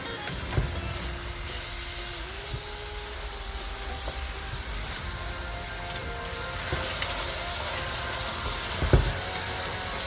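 Cinnamon sticks and curry leaves sizzle in a hot pan for a Kerala-style beef curry, a steady close hiss with a few faint pops and ticks and no one talking.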